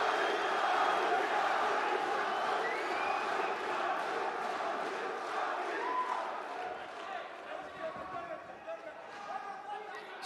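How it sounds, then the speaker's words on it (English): Crowd at an ACB 52 MMA event roaring continuously, a dense loud arena din with rising shouts and cheers, while a commentator talks over it throughout. "And also the crowd, listen to that"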